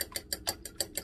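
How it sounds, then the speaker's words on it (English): A whisk beating eggs in a bowl for keto cheese muffins, a quick even rhythm of about seven light clicking strokes, close and fairly quiet. "Whisk it in."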